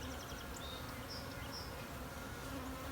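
Honeybees crowd an overcrowded observation hive, a dense continuous buzzing hum close by with brief higher whines from individual bees flitting past, steady and unbroken with no voices.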